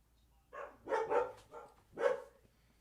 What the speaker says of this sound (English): If you hear the dogs, they're dogs. They're going to lose their mind.